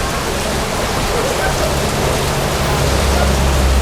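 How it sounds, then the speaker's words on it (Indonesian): Heavy rain pours down steadily at a roadside food stop, a loud, dense, unbroken hiss of drops filling the whole space with no talk. "Ini bener-bener hujan deras, guys."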